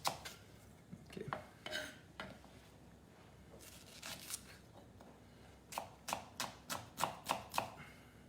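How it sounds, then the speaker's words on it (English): A knife slices potato and leek on a chopping board, crisp sharp cuts scattered at first, then a quick regular run of about eight chops near the end, close and fairly quiet with no talking. "just maybe slice a potato with a leek"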